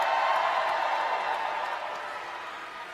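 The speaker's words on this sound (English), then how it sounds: "how about another round of applause for our great Vice President?" Sustained applause and crowd noise fill a Biden-Harris political rally in Philadelphia, Pennsylvania, a dense steady wash that eases off slightly toward the end, with no one speaking over it.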